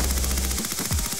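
Enemy gunfire in a shooter game, a short rapid burst of automatic shots rattling loudly for about a second.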